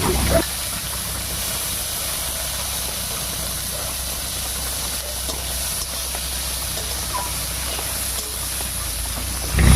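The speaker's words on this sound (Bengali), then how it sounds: "তেল গরম হয়ে গেছে এবার তেলের মধ্যে দেবো বেশ খানিকটা পেঁয়াজ" Onions hissing in hot mustard oil in a wok, a steady broad sizzle that starts with a burst as they go in and holds evenly, no talk.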